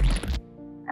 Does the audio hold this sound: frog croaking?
yes